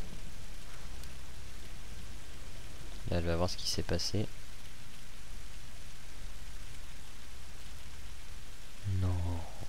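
Steady rain and thunderstorm noise in the video game Tomb Raider hiss evenly throughout as a continuous wash, with a person talking briefly in the middle and again near the end.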